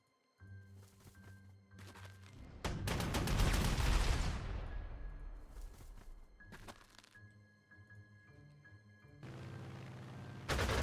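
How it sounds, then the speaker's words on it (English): Artillery fire in the WWII strategy game Panzer Corps 2: one heavy, loud boom with a long rumbling decay over a low musical backdrop, followed by further softer impacts. "We hit you with artillery."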